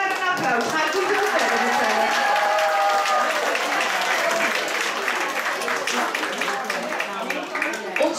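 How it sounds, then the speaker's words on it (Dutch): An audience at a 2014 bridal show breaks into sustained, lively applause that fills the room, with a voice speaking over the clapping. "Geef ze maar een applaus."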